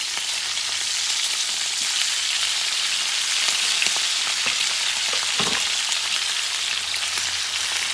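Butter sizzles loudly in a hot pan with a T-bone steak, a dense continuous frying hiss that stays close and steady throughout, with a brief utensil clink partway through.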